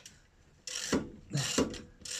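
A ratchet torques the brake caliper slide bolts on a Ford Fiesta during a brake job, giving three short bursts of rapid clicking, close and fairly quiet, with a soft low hum between them.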